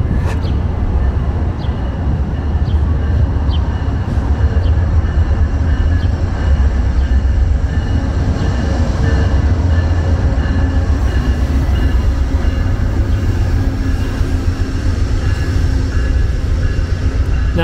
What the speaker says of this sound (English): No, there's one coming in, an Amtrak.